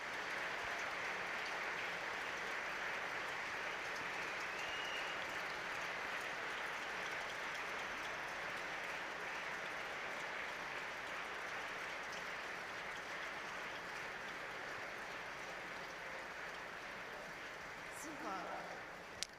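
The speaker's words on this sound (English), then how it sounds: "I wish you give us an applause for Europe." Broad, sustained applause from a large audience at a CDU party conference, filling the hall for nearly twenty seconds, then tapering slightly near the end.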